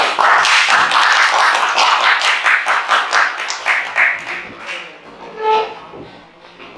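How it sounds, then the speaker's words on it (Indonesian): A group of students and teachers in a classroom claps for a team after its presentation. The applause is brisk and loud at first, then thins into scattered claps and dies away. "kasih tepuk tangan dulu"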